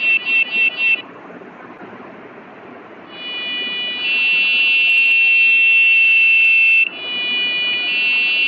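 A PWM-driven electronic buzzer sputters on at low voltage, giving a few short chirps before settling into a loud, steady high-pitched tone that briefly drops out and then resumes.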